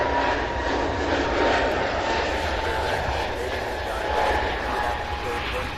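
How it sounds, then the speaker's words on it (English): A Frontier airliner taking off for Tampa from Cincinnati's CVG airport, a steady, full jet roar close by with a soft hiss on top, under someone talking. "So we have this Frontier flight here, taking off for Tampa."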